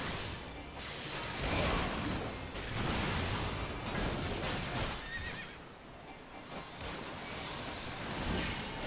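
A horse in a video game whinnies loudly among clip-clopping hooves and whooshing effects, the sound close and continuous with no talking.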